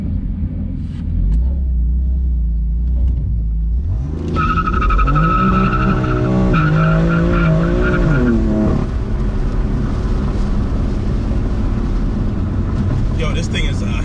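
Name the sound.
BMW M4 Stage 1 wheelspin, tires spinning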